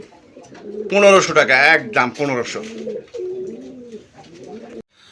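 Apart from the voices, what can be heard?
black Mukhi pigeons cooing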